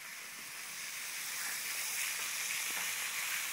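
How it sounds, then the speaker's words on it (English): Filet mignon searing in a hot pan, a steady soft sizzle and hiss that holds at an even level throughout, with faint crackles and no voices. "Oh, they're searing up really nicely."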